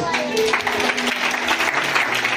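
A church congregation claps and cheers in praise, a dense burst of applause mixed with shouting voices, loud and continuous for the short span.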